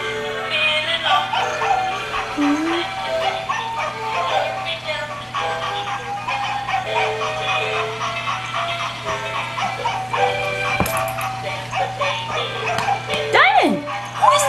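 A puppy yips, whimpers and barks in short bursts indoors during a 2010 snowstorm, its cries scattered through the clip under steady background hum and frequent talking from nearby people.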